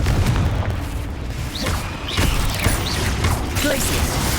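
A loud Confringo spell blast in Hogwarts Legacy, fired during a fight near an acromantula, with booming impacts and crackling magical effects over dense background game noise.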